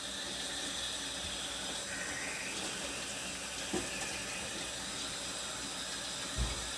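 Tap water runs steadily over an air fryer part being rinsed in a sink, a continuous close hiss and splash with a couple of soft knocks as the part is handled.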